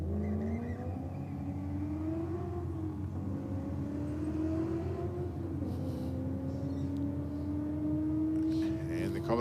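Holden Commodore and Ford Ute engines at a drag strip, a steady drone with rising pitch as they accelerate and shift, heard from a distance under a commentator's voice.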